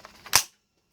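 A Crosman DPMS SBR full-auto BB rifle has its charging handle pulled back, giving one sharp mechanical clack with a short metallic rattle, close and alone, followed by silence.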